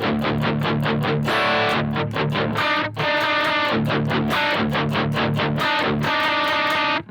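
Electric guitar through a Boss GX-10 set up as a Marshall stack with channel switching, playing loud, continuous distorted rhythmic chords and riffs with brief stops, alone.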